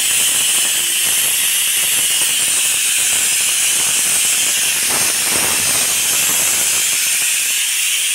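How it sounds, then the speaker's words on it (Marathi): A whole onion roasts directly on an open gas stove burner, giving a loud, continuous hiss and rush of flame that stays even throughout with no talking. "असा अख्खाच कांदा असा गॅसवर ठेवून द्यायचा, शिजून होते लगेच मस्त"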